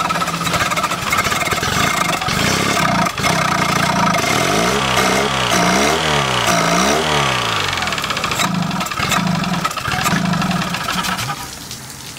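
A Yamaha 25hp 4-stroke outboard engine with an acceleration problem runs loud and close. It revs up and down several times in rising and falling sweeps, then settles back toward a rough idle.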